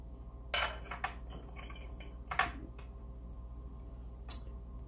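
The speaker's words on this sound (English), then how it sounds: "I'm not going to really cut up anything except slice my apples like so" Apples are sliced with a knife for a simple fruit bowl, heard as a few separate soft cuts and clicks of the blade against a board over a low steady hum, with no talking.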